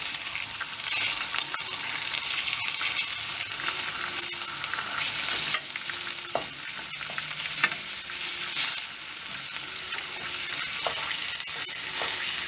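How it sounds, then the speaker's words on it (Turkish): Sucuk sausage fries in its own fat in a pan, sizzling and crackling steadily up close, with a few sharp clicks and stirring knocks now and then. "sucuğu kendi yağla pişiriyorum"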